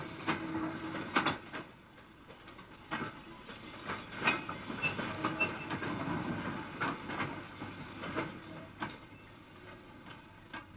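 Steam locomotive Little Barford, in worn condition, shunting coal wagons at a power station: a quiet, distant scene of scattered clanks, wagon knocks and soft hissing spread irregularly over the span.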